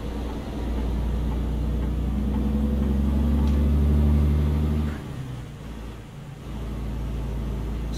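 Setra S 517 HDH coach engine in Euro Truck Simulator 2, a deep steady drone that swells for several seconds, drops off abruptly, then settles back into a lower, even rumble.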